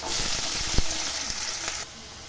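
Vegetables frying lightly in hot white oil as a curry is started, a steady broadband sizzle with a few soft stirring knocks, close and fairly loud, fading out near the end.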